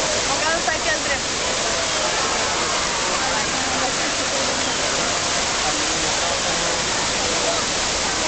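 A Barcelona water fountain splashes in a steady, loud, broadband rush of falling water that continues without a break, heard close up.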